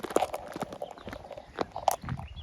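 Footsteps crunching on a gravel path at Ivinghoe Beacon, a steady walking rhythm of close, crisp crunches, with no one speaking.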